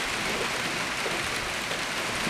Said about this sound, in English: Oh, Daddy, it's raining.